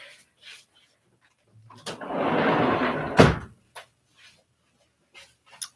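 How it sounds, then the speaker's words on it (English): A short rush of movement ends in a single solid door thud, followed by a few light knocks and rustles in a quiet room. "Now I gotta shut this door."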